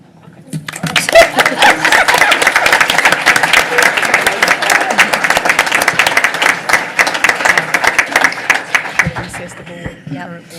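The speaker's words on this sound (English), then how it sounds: "Well, let's clap." Sustained applause from a room full of people at a board of education meeting, steady clapping that swells quickly and fades out near the end, with a few voices mixed in.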